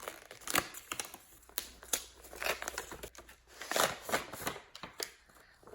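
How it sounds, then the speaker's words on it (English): Wrapping paper crinkles and tears in repeated close, bursty rustles as a gift-wrapped book is carefully unwrapped, with no talking. "I'm trying not to mess the paper up too much"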